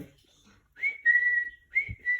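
A person whistles two bright sustained notes, each rising then holding steady, in imitation of a neighbour's parrot, clear and close in a quiet room.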